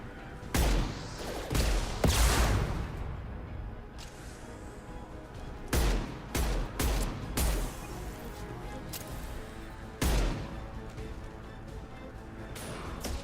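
Weapons fire in the video game Mass Effect 2: sharp, heavy bursts of shots and impacts strike in irregular clusters over a rumbling background, loud and close, with a few pauses between volleys.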